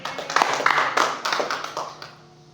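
Applause from a church congregation for a volunteer, a brief burst of clapping from a small group that builds quickly and then fades away within a couple of seconds.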